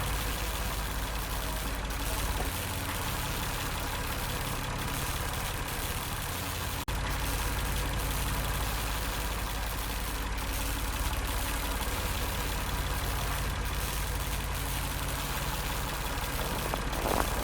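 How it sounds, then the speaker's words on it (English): A generator running inside a hut in a video game, a steady low mechanical drone with an engine-like hum that stays constant and unbroken throughout, fairly loud and close, with no other sounds standing out. "Must be the generator."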